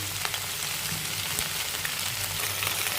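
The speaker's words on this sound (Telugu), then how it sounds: "ఆ జిగురు అనేది పోతుంది ఇట్లా ఆయిల్లో ఫ్రై చేసుకుంటే" Chopped okra (bendakaya) fries in hot oil, giving a steady, even sizzle with soft crackles throughout and no voices.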